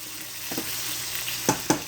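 Mushrooms with garlic and butter sizzle steadily in a pan, a broad continuous hiss with a couple of sharp clinks of a utensil against the pan near the end.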